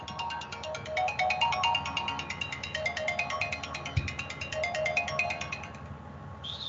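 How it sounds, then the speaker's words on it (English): Mobile phone ringtone plays a repeating electronic melody at a steady rhythm for several seconds, fairly loud in a council meeting room, then cuts off abruptly. "Sorry, that was my phone going off."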